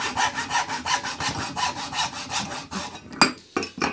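A Footprint dovetail saw cuts hardwood in about a dozen quick, even back-and-forth rasping strokes, close and clear, before it stops with a couple of light knocks.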